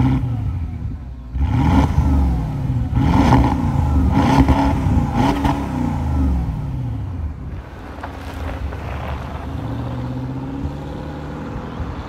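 Porsche Cayenne Turbo 955 V8 engine revving on a drive, with several loud surging rev swells in quick succession followed by a steadier cruising drone, mixed with wind noise.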